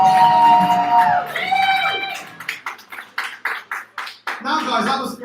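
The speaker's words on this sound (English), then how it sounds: "give all a round of applause" A competition show audience breaks into applause after sung and spoken voices fade, with distinct close claps in bursts and a brief rise of crowd noise at the end.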